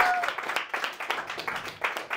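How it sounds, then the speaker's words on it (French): An audience at a French stand-up comedy show applauds for a contestant named Elisabeth, a brief, dense burst of clapping that swells and pulses steadily for a couple of seconds. "Un tonnerre d'applaudissements pour Elisabeth."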